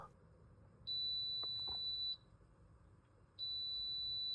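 Two steady high-pitched electronic beeps from a Korkmaz coffee machine, each lasting over a second with a pause between, clear against a quiet room.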